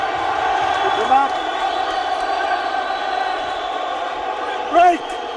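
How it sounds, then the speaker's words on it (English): A boxing crowd at a heavyweight title bout in Harare, Zimbabwe cheers and roars for the fighter Elvis Moyo, a steady din with louder swells, under a commentator's voice. "The crowd is going crazy for him."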